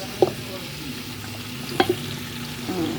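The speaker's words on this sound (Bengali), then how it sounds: "তবে মাংসটাকে তো আগে নেড়ে নিচ্ছি" Mutton is stirred in a pan over the heat, a steady soft sizzle and frying hiss with a few sharp scrapes and knocks of the spoon against the pan, close and fairly quiet.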